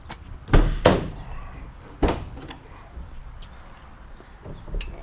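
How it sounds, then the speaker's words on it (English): Rear cargo doors of a 2021 Mercedes-Benz Sprinter 1500 cargo van, 144-inch wheelbase low roof, opening wide: a few distinct metallic clunks and latch thuds, close and fairly loud, spaced over several seconds with quiet between. "The rear doors open 270 degrees, just about kiss the quarter panels."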